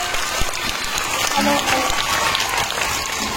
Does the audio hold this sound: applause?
yes